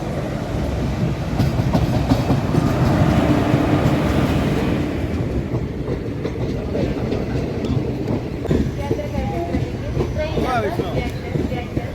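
A passing train rumbles and clatters close by for the whole stretch, a continuous heavy rolling roar with rhythmic wheel clicks, while people talk faintly underneath.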